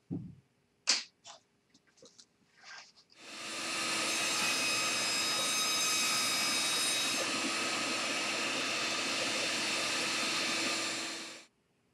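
A power saw cuts lumber for a parts storage rack to size: a few light taps come first, then the blade spins up into a loud, steady whine that holds for about eight seconds before it cuts off.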